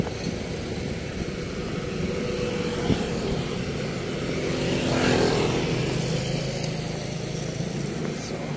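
A motorcycle passes at moderate distance along a street during an Undas gathering, its engine drone swelling to a peak midway and fading again over steady outdoor background noise.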